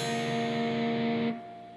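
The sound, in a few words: guitar bottom three strings strummed open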